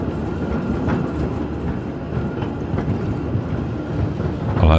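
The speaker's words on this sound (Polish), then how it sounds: "mnie irytuje ta prędkość ruszania tego tramwaju." Tram moving through a city in the Tram Simulator Urban Transit video game, a steady rolling rumble with faint rail clatter, fairly close and continuous, no talk.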